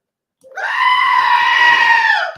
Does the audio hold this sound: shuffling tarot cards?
no